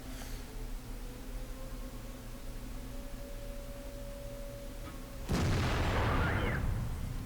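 In a video game, after a stretch of low droning rumble, a single heavy cannon blast from an ISU-152 booms out and rolls into a long noisy decay.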